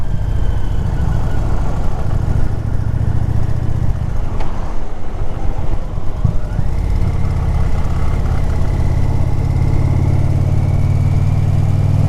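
Indian Pursuit / Challenger motorcycle engine while riding, a loud steady low rumble throughout with a brief dip and rise in revs midway.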